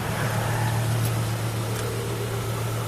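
A 1996 Volvo 850 engine idles steadily after a cold start, having sat unused for a couple of days, with a constant low hum and hiss and a faint whine throughout.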